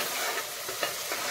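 Ground spice paste sizzles and spits in a hot pan, a continuous dense frying hiss with faint stirring scrapes and no voices.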